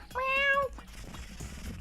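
A person imitates a cat with one clear, bright meow that rises and falls over about half a second, followed by a quiet room.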